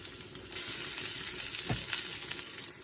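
Collard greens frying in a pan make a steady close sizzle and crackle, with a brief scrape of a utensil partway through.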